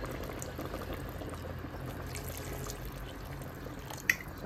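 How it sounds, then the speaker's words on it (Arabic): Water poured into a cooking pot over meat, a continuous soft bubbling and splashing of liquid, close and fairly quiet, with a small clink near the end. "وغادي نضيف شوية ديال الما اللي غطي ليا اللحم كامل"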